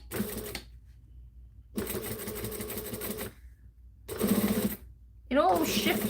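A sewing machine stitches a pattern piece in three separate bursts broken by silent pauses, each run a steady close mechanical whir, with a final burst that sounds different and higher.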